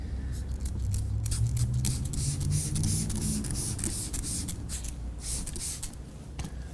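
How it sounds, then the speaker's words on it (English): Water spritzed from a spray bottle onto a car headlight before sanding, a series of short, close hissing bursts with brief pauses between pumps. "So first I'm going to spray the surface of the headlight with plenty of water, and then I'm going to spray this block"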